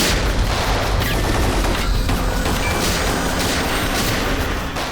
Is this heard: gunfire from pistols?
yes